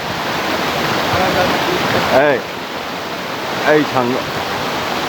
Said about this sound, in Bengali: এখান থেকে একটা জল নেমে যাচ্ছে